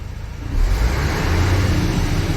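A car engine roars up after a brief idle, revving loud and steady at close range with road-like rumble, no voices.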